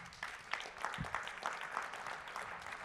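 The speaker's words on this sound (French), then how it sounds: "On vous applaudit." An audience at a Toulouse forum on green innovation and jobs applauds a speaker with sustained, dense clapping from many people, steady and somewhat distant, fairly quiet overall.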